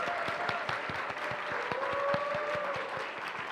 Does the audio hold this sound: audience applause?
yes